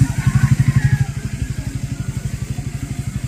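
A motorcycle engine runs close by on a rural road in Norzagaray, Bulacan, its rapid low pulsing throb loud at first, then easing slightly as it continues steadily with no talk.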